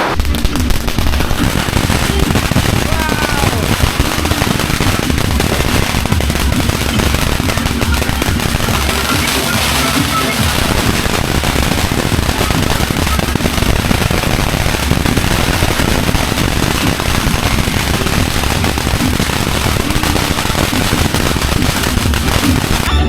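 New Year firecrackers and fireworks crackle and pop nonstop, a loud dense barrage of rapid bangs with no pause throughout.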